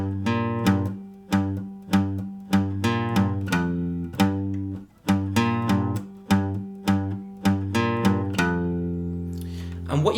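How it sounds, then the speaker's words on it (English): Electric guitar playing a song, with the low 6th and 5th strings palm-muted into short, muffled, evenly repeated plucks in a steady rhythm, close and clear with no talking. "I'm palm muting those 2 strings, the 6th and the 5th string"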